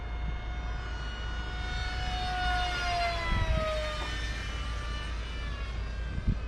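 An RC F-18 model jet on a 4S battery flying at full throttle: a high whining electric ducted-fan tone that rises and sweeps in pitch as it banks and passes, over a steady outdoor wind rumble.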